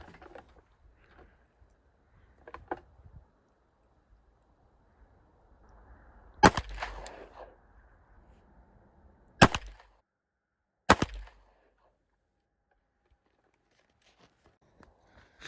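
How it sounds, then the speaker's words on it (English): Three sharp, brief reports from a CZ P07 pistol, heard at a moderate distance and fairly faint, spaced a few seconds apart, with quiet stretches and light handling noise between. "now I'm going to shoot the P07."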